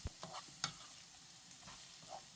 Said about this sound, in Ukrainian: Далі всипаємо морку і ще 2-3 хвилини смажимо на середньому вогні.